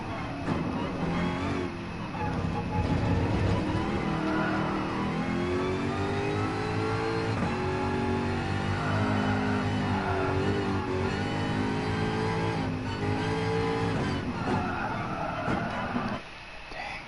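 A Ford Mustang engine in a PS4 racing game revs steadily and loudly for the whole stretch, rising and falling in pitch as it accelerates, with no pauses.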